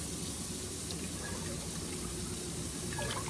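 A can of water is poured into a pot of tomatoes for homemade egg noodles, a steady close splashing and gurgling with a small trickle near the end.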